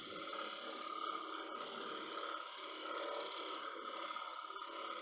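Light scraping cut of a turning tool against a spinning wooden winged bowl on a lathe, a steady continuous rasping hiss with no talk over it.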